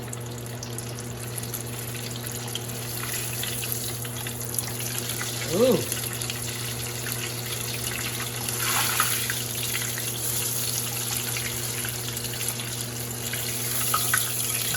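Chicken coated in flour frying in hot oil, giving a steady broadband sizzle and bubbling hiss throughout, with a brief exclamation from a voice partway through.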